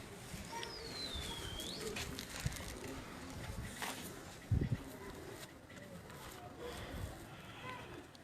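Pigeons on a rooftop in Quetta, Balochistan, give soft low cooing and occasional wing flutters close by, heard under people talking throughout.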